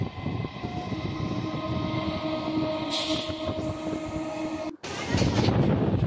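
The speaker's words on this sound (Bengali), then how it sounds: "ঢুকে গেছে বালিগঞ্জ প্ল্যাটফর্মে ট্রেন।" A Sealdah–Budge Budge local train pulls into the Ballygunge Junction platform, heard from on board: a loud, continuous rumble with steady tonal hum, a brief hiss near the middle, then a short dropout and louder rolling noise as it arrives.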